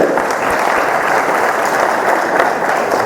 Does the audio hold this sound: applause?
yes